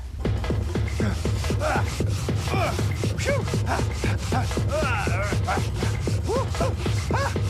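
A weight is pushed back across a surface several times, giving a steady, close scraping and rubbing of friction in repeated strokes that continues throughout.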